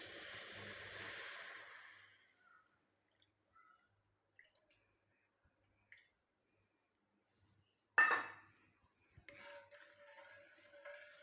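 An iron kadai is handled as juice is poured in: a brief splashing pour at first, then near-silence broken by faint scattered taps and one sharp metallic clink followed by quiet clattering.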